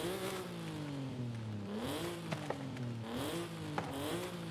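Stock Nissan 370z Nismo engine in Forza Horizon 5 cycling through repeated rev climbs and drops, a moderate, fairly subdued engine note with brief sharp clicks and light tire noise, no voices.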